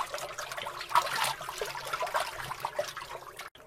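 A salted animal hide being rinsed in a tub of water, with steady sloshing, splashing and trickling that runs close and continuous throughout.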